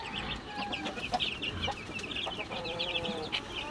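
Week-old farm chickens cluck and chirp in a short burst of overlapping calls at moderate distance, quiet and unbroken by talk.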